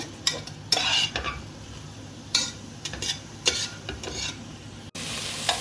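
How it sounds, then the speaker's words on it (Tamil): Onion and curry leaves sautéing in a pan for chilli parotta: a close, steady sizzle with repeated spatula strokes and scrapes, and no talk. "நான் வந்து இப்போ வந்து வெங்காயம் கருவேப்பிலை போட்டு வதக்கிட்டு இருக்கேன்"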